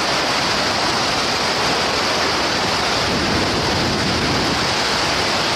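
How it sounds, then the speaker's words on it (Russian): The Zmeykovsky waterfalls in Sochi, swollen into a flood after heavy rain, give off a loud, steady, unbroken roar of rushing water that fills the whole recording without pause. "А вот так выглядели обычно спокойные и гостеприимные Змейковские водопады."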